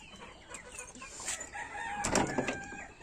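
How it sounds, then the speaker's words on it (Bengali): Chickens cluck and squawk nearby, and a rooster crows loudly near the end among scattered bird noises. "এখন যাবো একটু মুরগিটি ছাড়তে"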